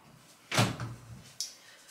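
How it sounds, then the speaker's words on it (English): An indoor door is pushed shut with a single soft thud, followed a moment later by a brief faint latch click, all at a quiet level. "let's just close the door"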